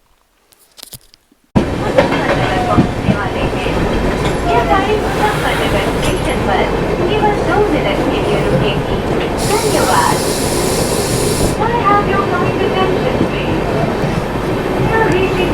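Shatabdi Express from Delhi to Dehradun, heard from inside an AC chair-class coach: a steady loud rumble and rattle of the moving train, with a brief hiss partway through and people talking faintly.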